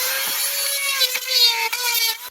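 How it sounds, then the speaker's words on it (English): A Dremel-type rotary tool buzzing a small circle while fitting an aftermarket power steering cooler on a 2003 Suburban, a close, loud high-pitched whine with brief dips as it bites, alone. "Just buzz a little circle in there with the Dremel type tool."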